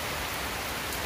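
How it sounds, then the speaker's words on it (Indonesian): Rain falling outdoors at a makeshift roadside shelter while out fishing, a steady, dense hiss of drops with no voices. "Cuacanya hujan, aduh tuh."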